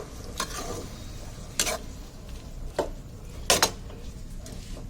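Chicken with slit green chillies is stirred in cooking oil, a low frying sizzle broken by several sharp scraping clacks of a spoon against the pan, close and unaccompanied by speech.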